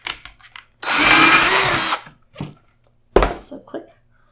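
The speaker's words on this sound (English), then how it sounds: "we'll drill through our drywall" A power drill whirs loudly for about a second as it bores through drywall, followed by a few thumps and handling clatter.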